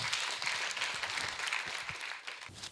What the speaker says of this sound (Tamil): மாணவர்களுக்கு வந்து நம்ம ஒரு பெரிய கைத்தட்டல் வந்துட்டு வழங்கிடலாம்.